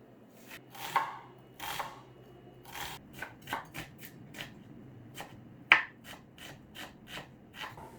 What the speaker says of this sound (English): Start by chopping 2 small onions. I chose shallots today